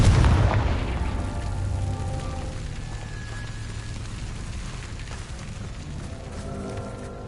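A Confringo spell blast in Hogwarts Legacy on PS5: one loud booming explosion at the start, then a long rumbling tail that slowly fades, with a faint tonal effect near the middle and no speech.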